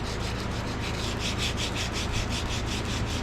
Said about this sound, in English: Piece of used sandpaper. That's 100 grit.